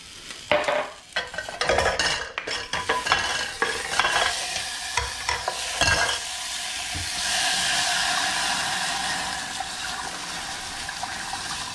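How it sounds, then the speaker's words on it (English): Scallion ramen noodles being stirred in a hot pot, with scraping and clatter in the opening seconds giving way to a steady steamy hiss and bubbling. "noodles are cooking"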